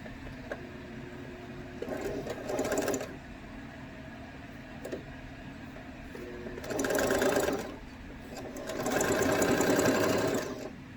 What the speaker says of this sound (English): I'm going to go ahead and go over it a couple times with my machine real quick. However, I'm also going to put it on a zigzag stitch